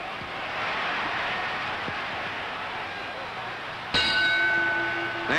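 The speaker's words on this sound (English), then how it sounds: "There's the bell, ending a close round." A boxing ring bell rings out to end a round in a 1950s heavyweight title fight between Rocky Marciano and Roland La Starza, a sharp clang with a ringing tail that cuts through steady crowd roar near the end.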